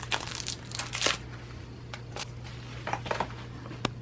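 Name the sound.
unwrapping packaging of a retinol oat milk moisturizer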